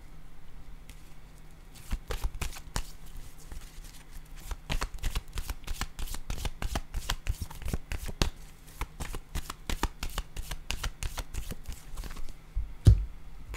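Tarot cards are handled and laid down on a table in a quick run of crisp, close slaps and flicks, irregular in rhythm, over a quiet background.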